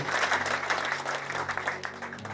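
A crowd at a house-warming celebration in Kenya claps steadily and densely, loud and close, with faint voices mixed into the applause throughout.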